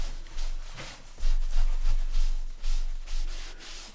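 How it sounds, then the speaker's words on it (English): Bare hands rub together briskly to work sticky glue off the skin during a fabric and lace journal craft session, giving a series of dry, close-up swishing strokes in uneven bursts with no talking. "Got glue on my hands, which isn't helping. Let's rub that off."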